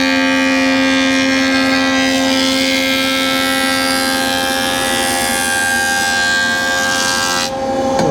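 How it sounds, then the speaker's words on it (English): An 8-inch jointer straightens the edge of a rustic board for a Halloween coffin build. Its loud, steady motor whine and cutting roar run close and continuous, easing slightly near the end. No one speaks. "So we're going to go to our 8-inch joiner."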